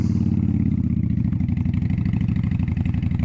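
A motorcycle engine chugs loudly and steadily close by, its rapid low pulsing even and unbroken, with no clear rev or gear change standing out.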